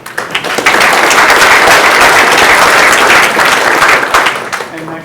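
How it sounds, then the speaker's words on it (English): A loud, dense round of audience applause at a conference talk session, rising quickly and holding steady for several seconds before tapering off. "One more round of applause."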